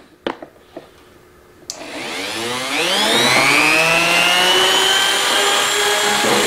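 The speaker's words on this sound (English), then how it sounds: "We're going to use our Dremel again for this." A Dremel rotary tool fitted with a diamond bit cutting hardened steel on an antique WWII military knife gives a few sharp knocks, then spins up to a loud, steady high whine with a rising pitch that holds close and sustained.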